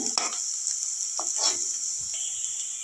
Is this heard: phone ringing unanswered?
no